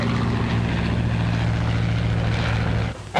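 A 1930s propeller airplane drones steadily in flight, its engine a loud, even hum with a low throb, and the sound cuts off abruptly near the end.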